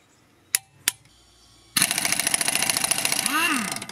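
A pneumatic impact wrench driven by a Parkside PSKO 24 B2 oil-free 24-litre compressor, set to loosen bolts: two short sharp clicks, then a loud, continuous rattling hammering burst that runs for a couple of seconds.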